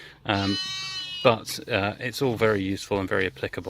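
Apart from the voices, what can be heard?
sheep bleating in the background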